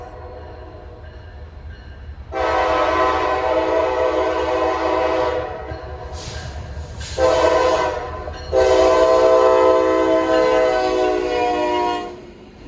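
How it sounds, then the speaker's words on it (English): A Norfolk Southern light engine locomotive rumbles past while its horn sounds in long, loud blasts, first one sustained tone, then a brief break, then two more long blasts. "That was the H95 light engine move."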